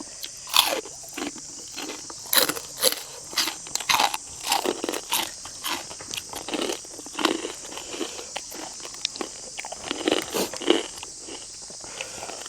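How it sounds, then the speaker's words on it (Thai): Crunchy Isan green papaya salad eaten with pork cracklings outdoors in the countryside: repeated loud, close crunching bites and chewing in an irregular rhythm for the whole stretch, over a steady high insect-like drone, with no talking. "ตำมะฮุงกับแคบหมู เข้ากันคัก"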